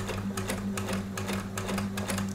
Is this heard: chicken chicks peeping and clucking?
no